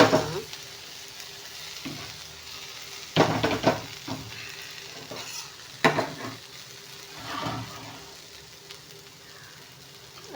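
Turkey berries fry in hot oil in a pan, a soft steady sizzle broken by several loud stirring scrapes and clatters of a utensil against the pan.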